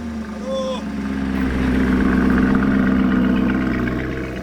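A Viola Pasifae Technica car engine idles just after startup with a steady, loud, low hum, and people talk over it.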